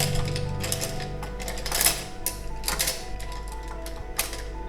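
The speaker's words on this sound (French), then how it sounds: "Nous allons découvrir un chargement de la machine." Lift Loader machine being loaded with parts: rapid mechanical clicking and clattering over a constant low hum, with repeated sharp metallic impacts and bursts of activity, close and busy, no speech.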